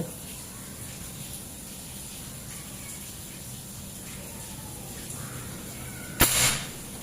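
One sharp, brief crack of a custom folding PCP air rifle with a 40 cm seamless barrel and 28 mm stainless tube at 3000 psi, standing out once near the end over faint outdoor background hiss.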